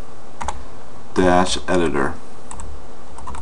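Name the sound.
typing on a computer keyboard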